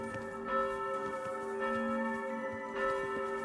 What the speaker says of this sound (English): God, that bell. Stop it.